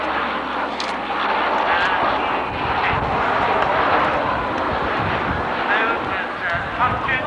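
Jet aircraft passing at a 1991 USAF Cold War airshow at Alconbury, a loud, steady, broad roar that holds for several seconds, with a low rumble early on and a commentator's voice faintly under the noise.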